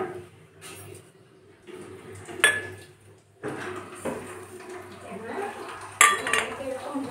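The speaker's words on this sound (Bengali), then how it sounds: "হাতে করে মেখে নেব, আলুগুলো যেন খিচ না থাকে" Boiled potatoes are mashed and kneaded by hand with black pepper powder and fried spice mix in a metal bowl, giving soft squishy handling with scattered clinks of the bowl and utensils, fairly close and quiet.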